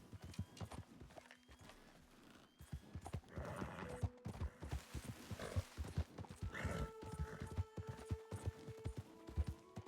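Horse hooves clip-clopping at a steady rhythm in Red Dead Redemption 2, close and continuous, with an occasional whinny and game ambience around them.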